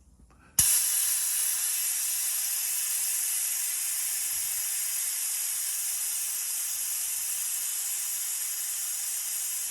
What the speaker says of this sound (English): The pump, obviously running off my air compressor, which is bloody noisy.